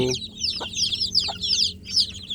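Newly hatched free-range village chicks cheep in rapid high chirping bursts close by, with a few clucks from the mother hen in the background.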